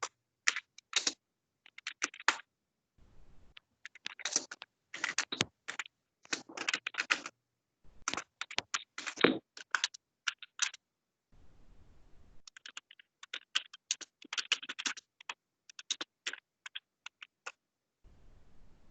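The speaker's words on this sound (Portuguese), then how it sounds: "Deixa eu digitar para ela." Typing on a computer keyboard, with quick bursts of close, crisp key clicks separated by short pauses, steady and alone.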